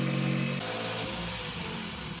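A power tool grinds and cuts steadily during engine work on a sailboat, a loud continuous buzzing drone that shifts tone once partway through and then stops abruptly.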